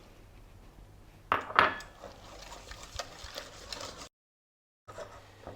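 A spoon works through choux pastry dough for profiteroles in a bowl, with a couple of close clinks and scrapes followed by a steady soft stirring and scraping, then a brief silence before the mixing resumes.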